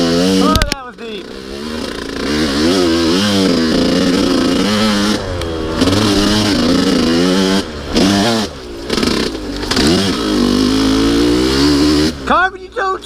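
A 125cc two-stroke dirt bike blats and revs close by on muddy trails, its engine pitch rising and falling through repeated throttle bursts with brief dips, and a voice speaks over it.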